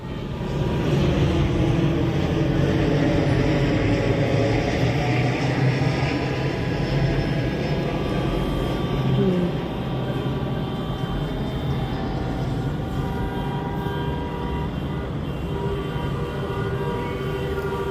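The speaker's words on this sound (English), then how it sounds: "Planes steadily coming in for John Wayne Airport." Airplanes on approach to John Wayne Airport in Orange County, California, a steady broad jet roar that holds for the whole stretch, rising slightly then easing, with no talk over it.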